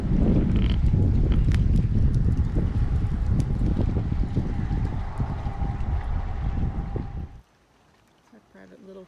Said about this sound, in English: Feel that wind.